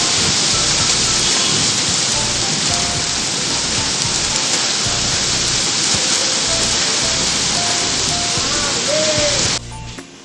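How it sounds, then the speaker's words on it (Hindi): Heavy rain pours in a steady, loud, unbroken roar, with thunder rumbling low beneath it, until it cuts off abruptly near the end. "बारिश थोड़ी तेज ही चालू हो गई, अभी बिजली अभी कड़क रही है।"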